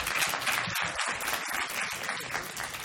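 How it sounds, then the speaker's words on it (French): Conference audience applauding at a francophone immigration forum, a dense steady wash of many hands clapping that holds for the whole stretch with no talk over it. "je vois qu'il y en a qui ont le goût d'applaudir"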